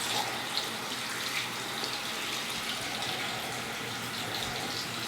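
Tap water runs steadily into a sink as a coin is rinsed clean, a constant close wash of flowing water with no breaks and no talk.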